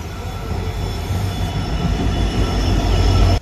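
Train at a railway station in Assam while its engine is uncoupled: a steady, loud rumble of railcars and rail noise with a faint high whine, continuous throughout with no voices.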